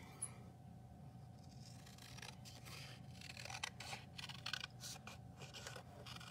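Scissors snipping through paper while cutting out a heart shape for a craft card, a steady run of soft close-up snips and rustles against a quiet room hum.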